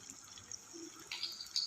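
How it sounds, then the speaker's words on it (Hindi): About half a cup of water is poured onto tomatoes in a cooking pot, giving a soft, faint splash and trickle that swells near the end. "टमाटर डालने के बाद मैं इसमें तकरीबन ½ कप पानी डालूँगी"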